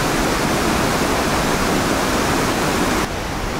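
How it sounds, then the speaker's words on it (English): Three large waterfall cascades in France send up a loud, unbroken broadband roar of falling water that holds steady throughout and drops slightly in level near the end. "I can see the waterfalls, and wow, that's incredible."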